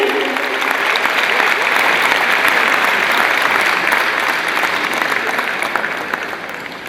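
Sustained applause from an audience at an award ceremony as a prize is handed over, dense steady clapping filling the hall for several seconds before tapering slightly at the end.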